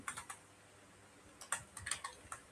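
Computer keyboard typing in short bursts of quick clicks, separated by a quiet pause in the middle, close and fairly soft with no voices.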